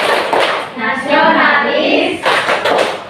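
Children clap in a rhythmic PPK chant in a classroom, bursts of hand claps mixed with loud chanting voices, near and energetic, pausing briefly before resuming.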